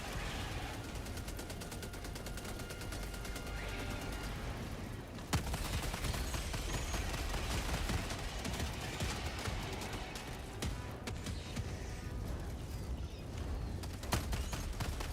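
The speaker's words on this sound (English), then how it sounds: "And the machine gun turret." Sustained rapid machine gun turret fire in a video game shooter, dense continuous bursts with a few sharper loud shots, alone without talk.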